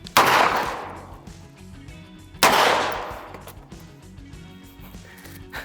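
Two loud booming shots from a Desert Eagle .50 caliber handgun fired at melons outdoors, each a sharp blast followed by a long decaying echo, about two seconds apart, with no voices.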